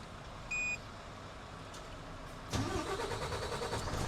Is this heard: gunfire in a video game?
no